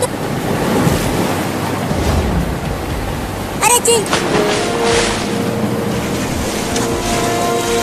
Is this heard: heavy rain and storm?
yes